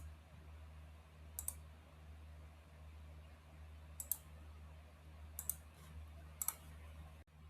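A computer mouse clicks sharply while confirming dialog buttons in calendar software: four quick clicks, some doubled, spaced apart over a low steady hum.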